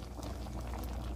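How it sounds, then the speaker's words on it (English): A pot of cabbage, kielbasa and potato soup bubbling at a steady rolling boil, close by, with a continuous wet, popping texture and no voices. "We're boiling. I'm going to let this simmer."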